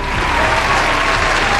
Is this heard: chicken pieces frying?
no